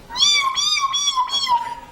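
A talking bird imitates a cat's meow on a television stage, giving a few clear, drawn-out tonal meows in a row, close and loud with no speech over them.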